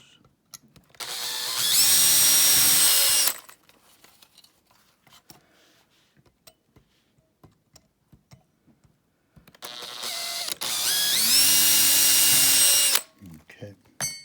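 A power drill bores holes in a pipe during a Freewing Cougar RC jet turbine conversion, two loud sustained whining bursts a few seconds each separated by a quiet pause with small handling clicks, close up.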